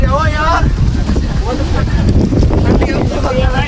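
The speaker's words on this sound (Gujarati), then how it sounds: "હેઠે પવન એટલો છે" Strong wind on Girnar mountain near Junagadh roars and buffets the microphone throughout, loud and close, while people talk over it.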